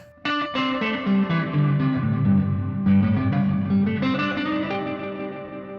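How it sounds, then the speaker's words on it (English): Guitar chords ring through an Eno budget reverb pedal set to spring mode with every control maxed, a sustained, heavily washed and distorted tone with splashy tails between strums, loud and close. "Let's put it onto spring and see what that sounds like with everything on full"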